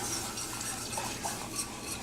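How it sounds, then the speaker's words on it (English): A flour and butter roux is stirred in a pan, a soft, continuous scraping and rubbing at low volume with a faint hiss underneath and no speech. "And you want to stir that for probably maybe 1 or 2 minutes."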